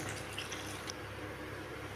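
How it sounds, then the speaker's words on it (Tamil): Water is poured into a simmering pepper kara kuzhambu, a soft continuous splashing trickle, quiet and close, with no voices. "இப்போ தண்ணி உங்களுக்கு தேவையானது போட்டுக்குங்க"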